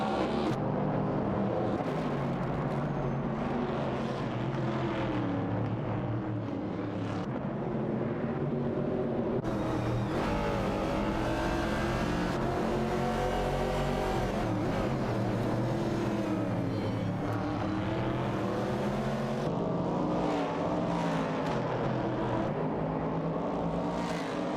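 Race cars lapping a track in a racing video game, with steady engine drone and rising and falling whines from several cars running together throughout, continuous and moderately loud with no voices.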